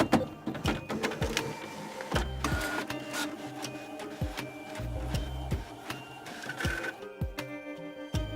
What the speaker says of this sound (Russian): Давайте заправим этот принтер